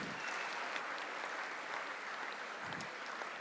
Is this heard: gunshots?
no